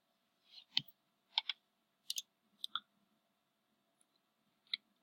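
A handful of crisp computer mouse clicks, some in quick pairs, spaced across a quiet background while working in a database application, near and clear.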